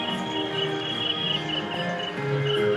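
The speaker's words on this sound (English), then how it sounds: "I don't remember there being the sound of crickets in here before." Recorded cricket chirps play in an indoor area at Disneyland, a steady dense trilling chorus with faint bird-like calls mixed in, continuous and moderately loud.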